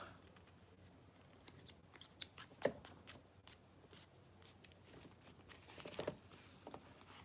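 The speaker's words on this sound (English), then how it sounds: "Just trying to trim up all these threads that I missed before." Scissors trim loose threads on a sewn hard slot panel, giving a few quiet, irregular snips and light rustles of fabric close by, with no talk.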